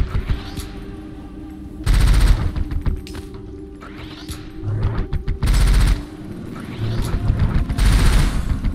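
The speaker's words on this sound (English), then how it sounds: "These guys are wheels with guns." Bursts of rapid gunfire from wheeled gun-toting enemies in the video game Rusted Moss, loud and repeated in several volleys amid mechanical game sounds and booms.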